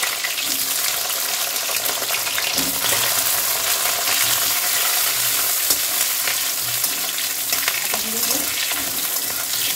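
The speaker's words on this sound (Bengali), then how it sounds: "এই যে অনেকটা ভাজা ভাজা হয়ে এসছে বেগুনগুলো" Steady, loud sizzling of eggplant frying in mustard oil with nigella seeds and green chilies, with occasional stirring clinks from a utensil in the pan.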